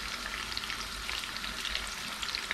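Aubergines hitting a hot frying pan give a steady, loud sizzle and crackle of frying that fills the whole stretch without a break, with no voices over it.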